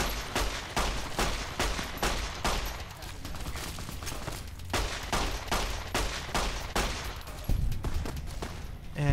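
Repeated loud gunshots in the video game Fallout New Vegas, evenly spaced rifle fire close up that continues throughout with a few heavier blasts near the end.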